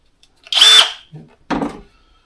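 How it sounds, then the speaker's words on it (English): A power drill or screwdriver whirs in two short, loud bursts about a second apart, close by, while screws are driven into panels during a home building project. "There's a screwdriver."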